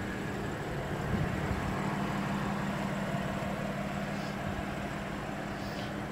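A new BMW M4 with an M Performance exhaust idles with a steady low rumble that holds even and continuous throughout, with no clear revs.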